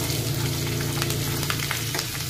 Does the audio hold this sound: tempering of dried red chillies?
yes